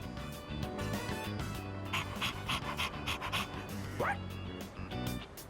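Dog panting in Persona 3 Reload: rapid, rhythmic breathy pants close by over background game music, with a brief high whine partway through.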